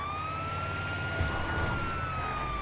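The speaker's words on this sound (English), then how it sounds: "Great move bringing an ambulance." A steady wailing ambulance siren in the video game Grand Theft Auto V holds one continuous rising-and-falling tone, loud and close throughout, with no voices.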